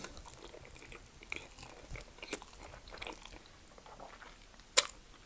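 Someone takes a huge bite of a block of spam topped with mayo and ketchup, alongside creamy pasta carbonara, with soft close chewing and crunching sounds and one sharp louder bite near the end.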